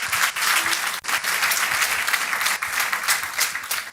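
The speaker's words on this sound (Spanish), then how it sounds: "strong applause." A church congregation applauds during a sermon, steady dense clapping filling the space without pause.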